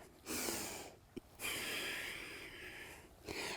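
Audible breaths during a yoga pose, long airy exhales and inhales in close succession with short pauses between, near and fairly soft.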